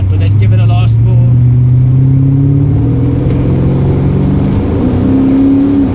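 A Lexus 3UZ V8 swapped into a Nissan 1400 bakkie revs loudly and up close, its engine note climbing steadily in one sustained pull, with a voice speaking briefly over the start.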